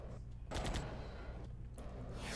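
Gunfire in a Capcom video game: a sharp burst of rapid shots, then another short shot a second later, over a constant low game drone.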